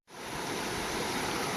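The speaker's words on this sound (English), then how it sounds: "Got another decent creek crossing." A mountain creek in the High Sierra flows steadily past pine trees and a trail crossing, a continuous, close rushing wash of water with no voices.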